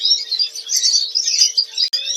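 Siskins chirp inside a breeding cage where a male and female have just been placed together, a dense stream of high, rapid twittering calls running continuously and close, with a brief gap near the end.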